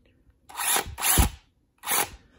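Craftsman power drill whirs in three short bursts, the first two close together and the third after a brief pause, loud and near with no talk.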